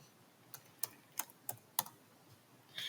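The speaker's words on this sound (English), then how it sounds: "So I type rmdir float and press enter" Light, quick taps on a computer keyboard as a short command is typed, about half a dozen crisp close keystrokes in an irregular rhythm ending in a firmer press.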